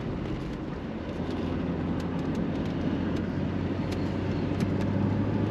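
A 1999 Chevrolet Corvette convertible with the top down, driving on a summer day and downshifting to third gear for a traffic circle, gives a steady, close engine drone with road and wind rumble throughout and no talking.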